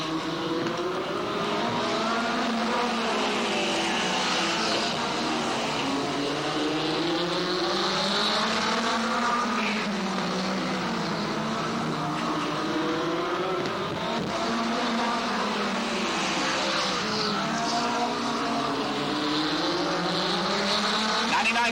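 Race cars roar past continuously on a speedway oval during a 15-lap race, with tires smoking under braking into turn one; engine whine rises and falls loudly throughout, with a commentator talking over it.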